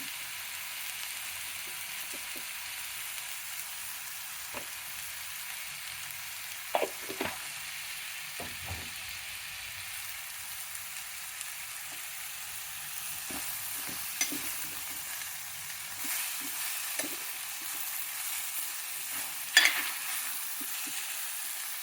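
Tomatoes with fenugreek powder fry in a pan with a soft, steady hiss, broken by scattered scrapes and taps of a spoon stirring, no voices.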